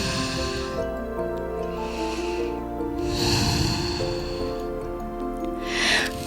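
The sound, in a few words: big exhales during yoga child's pose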